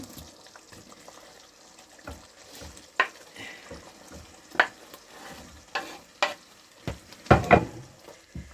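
Pineapple pieces simmering in a Thai coconut milk curry with mussels, giving soft bubbling with several louder stirs, clatters and scrapes of a utensil against the pot at close range.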